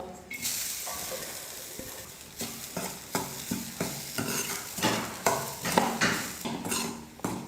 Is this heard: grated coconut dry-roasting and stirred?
yes